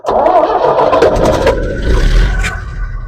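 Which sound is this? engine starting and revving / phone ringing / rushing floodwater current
engine starting and revving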